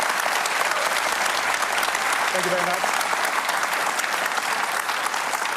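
An audience applauds throughout, a dense, steady wash of clapping from a large crowd, with a brief spoken thanks heard over it midway.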